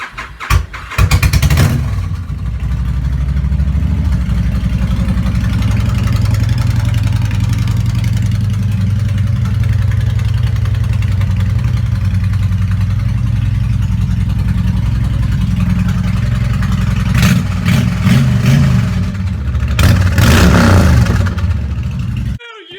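A vehicle left sitting for a couple of weeks in freezing cold of about minus thirty degrees cranks briefly and fires, then settles into a loud, steady idle with a few sharp revs near the end.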